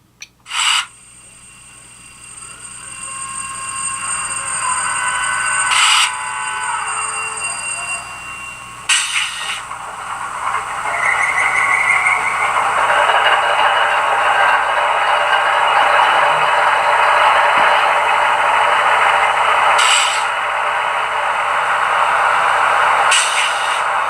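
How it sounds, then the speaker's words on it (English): ScaleTrains HO scale Tier 4 GEVO model diesel locomotive with ESU Loksound sound decoder starting up: clicks and a tonal whine, then a steady droning engine rumble building and holding, played through a small speaker. "But I'm going to start up the ScaleTrains locomotive first."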